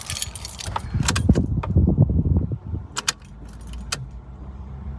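Car keys jangle in a burst of metallic clinks up close, fading to a few separate jingles, with a low engine or vehicle rumble underneath throughout.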